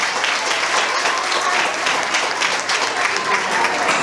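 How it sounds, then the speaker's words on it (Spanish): Audience at a Bible olympiad awards ceremony giving a strong round of applause, dense steady clapping filling the room without a break. "Vamos a recibirlo con un fuerte aplauso."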